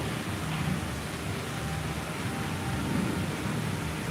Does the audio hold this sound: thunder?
yes